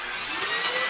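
A dust collector attached by a suction hose to a woodworking machine roars steadily once switched on, a loud continuous whooshing drone with no pauses.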